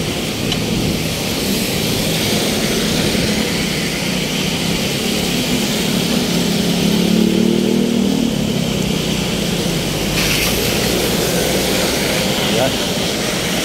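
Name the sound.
engines of passing traffic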